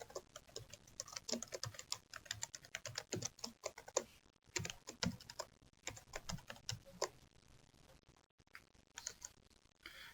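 Fingers type steadily on a computer keyboard, a quiet, close, continuous patter of key clicks with short pauses. Data is being entered by hand into a form.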